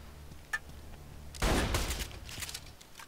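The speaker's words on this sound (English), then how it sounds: "You're just wasting ammo, you are." Gunfire in Borderlands 2, a loud burst of shots about midway followed by scattered quieter bursts and faint ticking game sounds, with no talk over it.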